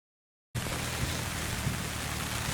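Heavy rain suddenly pours down on a campsite at Fumotoppara during tent takedown before Typhoon 19, starting abruptly after a moment of silence as a loud, steady hiss of downpour with no voices.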